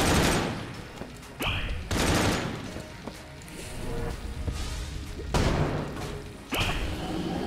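Heavy cannon blasts and gunfire erupt in bursts inside the video game Enter the Gungeon, each sharp boom followed by whooshes and thuds, fairly loud with brief lulls between volleys and a voice talking at times.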